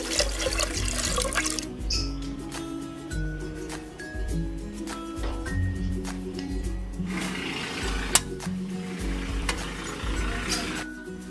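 Rice washing water pours steadily into a cooking pot as a shrimp sinigang soup with mangrove apple is prepared, making a continuous splashing liquid rush with no voices.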